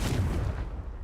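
A Confringo spell blast in the video game Hogwarts Legacy booms out as a single heavy, rumbling burst that fades within a second.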